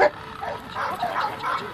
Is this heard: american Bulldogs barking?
yes